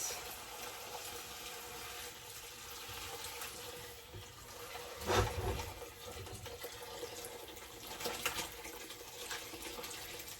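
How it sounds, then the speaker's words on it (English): Chicken soup stock is poured slowly from a strainer into a pot, a continuous low liquid rush with one louder splashing surge midway, no talking. "we're just going to slowly pour it in this pot"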